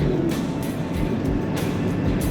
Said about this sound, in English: And just listen to that diesel, it's not even trying.